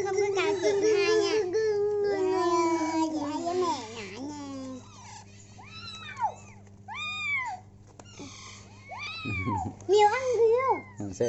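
A mother cat and her kitten meow repeatedly, with higher and lower mewing calls trading back and forth at close range over a faint steady hum.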